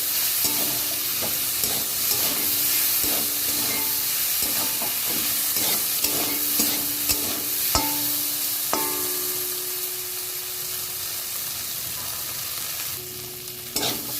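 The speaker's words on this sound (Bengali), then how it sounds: "দেখুন আমার পেঁয়াজ আর ঢ্যাঁড়সটা ভালো করেই ভাজা হয়ে গেছে।" Onion and okra sizzle in a pan while a spatula scrapes and stirs in repeated strokes. The frying hiss stays steady and close, and the stirring eases off toward the end.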